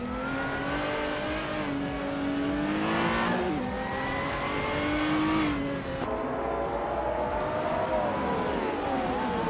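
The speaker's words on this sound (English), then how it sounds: "Famaka is driving a Lamborghini Murcielago, which is known for its V12 engine and aggressive styling." Lamborghini Murcielago V12 engine in a racing video game, a continuous high revving drone rising and falling through gear changes with brief pitch dips, steady and close throughout.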